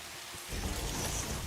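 Rain in the video game Satisfactory: a soft hiss that swells after a quiet start into a steady, broadband patter, heard on its own with no talking.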